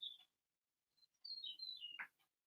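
Faint, thin bird chirps and a short whistled call sound from a distance, separated by silence.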